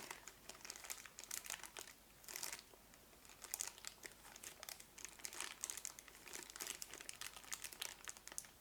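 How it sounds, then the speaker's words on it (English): Close, quiet crinkling of a thin plastic packaging bag while unboxing a Blue Yeti USB microphone, crisp irregular rustles and crackles coming in bursts with short pauses, no voices. "I love crinkling."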